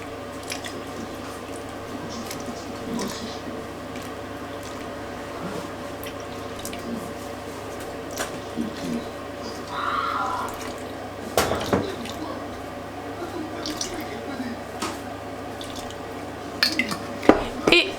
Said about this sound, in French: Et on va pétrir ça au moins pendant 10 minutes, le temps que le gluten se forme.